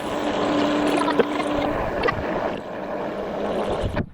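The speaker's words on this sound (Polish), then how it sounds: "słychać, że ta pompa jednak pracuje" A motorized pump drones steadily at close range with a broad, noisy hum, cutting off abruptly near the end.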